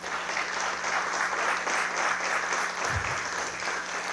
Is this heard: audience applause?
yes